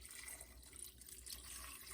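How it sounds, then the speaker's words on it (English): Tap water running into a cooking pot to cover potatoes for soup, a faint continuous hiss and splash of flowing water, very brief. "This is just tap water."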